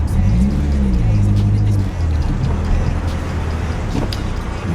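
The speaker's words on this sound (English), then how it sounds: "Usually have to put the car into gear." A car engine revs steadily and loudly as the vehicle is put into gear at a drive-through, with a low droning rumble throughout and brief voices mixed in.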